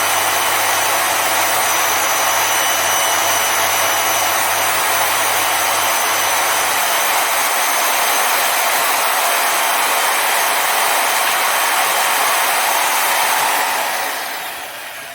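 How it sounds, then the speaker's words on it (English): A power sander grinding the edges of a metal coin, a loud, continuous, dense whir that holds steady throughout and then eases off near the end, no speech. "I'll sand the edges of them down, or yeah, sand them down."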